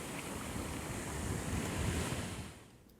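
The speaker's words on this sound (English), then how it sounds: "Let's go take a walk together along a nice beach in the Caribbean" Ocean waves wash steadily onto a Caribbean beach in a continuous broadband roar that swells slightly and then eases off near the end, with some wind noise and no voices.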